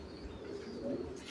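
A pigeon gives a faint, brief coo near the end of a short stretch of quiet background hum, in a pigeon fancier's loft setting.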